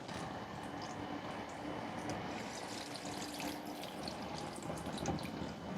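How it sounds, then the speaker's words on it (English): Gentle watering of a tall, top-heavy potted houseplant indoors, a steady soft stream and trickle of water soaking into soil and splashing lightly, continuous and close for several seconds with no talking. "Now I'm gonna try to very gently water it so that it doesn't just come all toppling down and snap itself."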